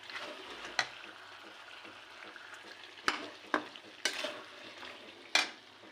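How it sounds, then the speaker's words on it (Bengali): Chicken Manchurian sauce with honey stirred in a pan: a soft bubbling simmer punctuated by several sharp clicks and scrapes of a utensil against the pan. "এবার ভালো করে মিশিয়ে"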